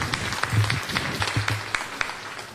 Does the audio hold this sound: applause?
yes